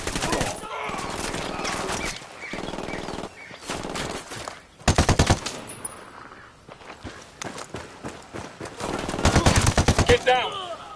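Bursts of automatic gunfire and rapid shots in Ghost Recon Wildlands, a military shooter video game, rattle out in several clusters across the stretch, with footsteps and movement in between and louder volleys near the end.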